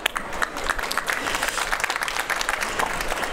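Audience applause welcoming a panel expert at the Krones Forum at drinktec trade fair, a steady wash of many hands clapping with dense overlapping claps throughout, moderately close, with faint voices mixed in.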